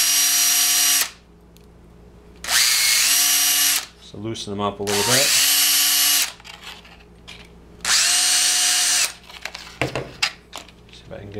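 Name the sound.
power drill re-drilling holes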